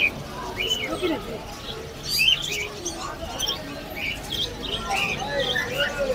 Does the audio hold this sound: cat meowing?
no